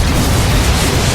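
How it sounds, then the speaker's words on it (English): A nuke detonates in StarCraft 2 during a GSL match, a loud, dense rumbling blast that fills the whole short moment with no speech over it. "Spent a nuke on one cannon."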